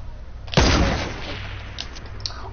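One sharp, loud sniper rifle shot in a competitive shooter game cracks out and then decays into a long trailing echo, followed by a few faint clicks.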